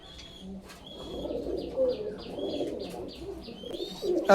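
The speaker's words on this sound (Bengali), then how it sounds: "ভিউয়ার্স এই আর একটা পেয়ার আছে কেটিএম কবুতার হান্ড্রেড পারসেন্ট র ব্লাড লাইনের" Pigeons of the KTM breed, a pure-bloodline pair, coo softly and repeatedly with a few faint chirps over a low, steady background hum; a voice speaks faintly underneath.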